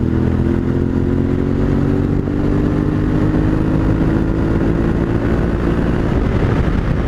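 Yamaha Tenere 700 motorcycle accelerating hard after a downshift, the engine droning loudly and rising steadily in pitch under wind rumble.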